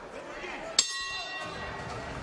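A single sharp bell strike at the end of a round in a professional boxing bout, ringing briefly over arena crowd noise and commentary.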